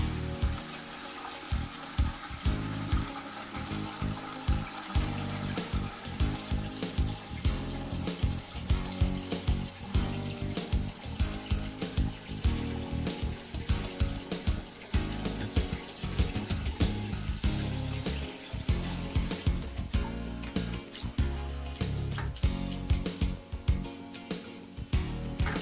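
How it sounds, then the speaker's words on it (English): Water is drawn out of a Water-Right neutralizer filter tank before calcite is added, a continuous splashing and sloshing with gurgling bursts that goes on for about twenty-five seconds with no talking. "removing some water from the filter so that when he replaces it with calcite,"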